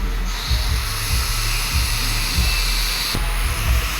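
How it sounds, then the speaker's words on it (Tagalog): A Concord backup blower runs inside a Toyota Hiace van, giving a steady airy whoosh with a constant high hiss over a low hum and faint thumps. There is no talking. "Concord backup blower ang ating ikakabit din eh."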